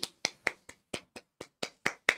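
Ten slow, evenly spaced hand claps in a classroom, sharp and close, each clap standing alone with silence between.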